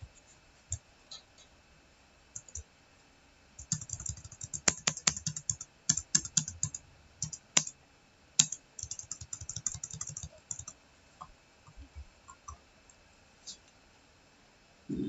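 Keys clatter on a computer keyboard as a network configuration command is typed, with bursts of quick, close clicks separated by pauses.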